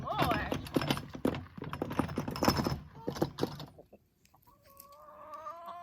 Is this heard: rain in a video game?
no